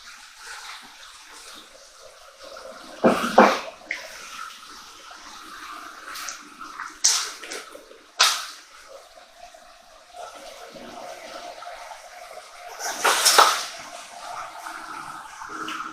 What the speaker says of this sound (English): I'm just mixing that into the boiling water